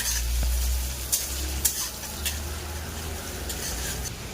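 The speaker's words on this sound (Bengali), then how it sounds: "রান্নার জন্য কাঁচা লঙ্কা দেব, পেঁয়াজ কুচি দেব, কিছুক্ষণ ভেজে নেব।" Green chillies and chopped onion fry in oil left from frying fish, giving a close, steady sizzle with a few sharp stirring clinks early on.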